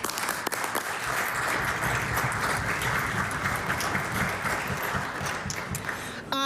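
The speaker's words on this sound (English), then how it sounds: "I ask the House to applaud Dr. Emsley as she takes this important step in her career" Sustained applause fills the House of Assembly chamber, a dense steady round of clapping from many members, loud and unbroken throughout.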